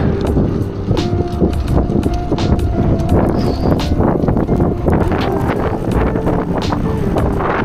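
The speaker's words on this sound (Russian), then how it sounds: "Ветер встречный." Strong headwind buffets the microphone in loud, gusty rumbles, with irregular thumps and rattles throughout, while riding a bicycle toward a bridge in Daytona Beach in the evening.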